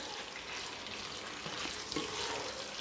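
Pasta being worked into a creamy red sauce in a hot pan gives a soft, steady, close sizzle with a faint wet stirring texture, quiet and continuous with no talk over it.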